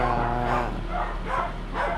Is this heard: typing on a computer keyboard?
no